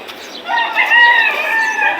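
A fighting rooster crows loudly and close by, one long drawn-out call with a rising then sustained tone, with no talking.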